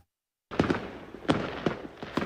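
Fireworks at a Bandi Chhor Divas celebration at Gravesend Gurdwara burst after a moment of silence, a cluster of sharp cracks and pops crackling at a distance in an irregular run.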